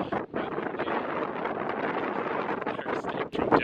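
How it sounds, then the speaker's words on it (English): Strong wind buffets the microphone on the Cape Hauy cliff top in Tasmania, a continuous loud roaring rush with gusty fluctuations and no voice heard. "Hope you can hear me over the wind"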